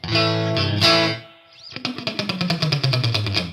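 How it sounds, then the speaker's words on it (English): Electric guitar notes through a Boss Katana amplifier's spring-style reverb effect, a few sustained chords then a rapid rhythmic strummed passage, loud and close, microphone a few millimetres from the speaker grille. "that kind of sounds like a proper reverb tank"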